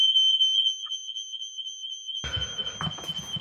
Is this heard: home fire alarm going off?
yes